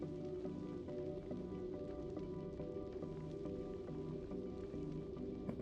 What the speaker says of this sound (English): A lot of rain here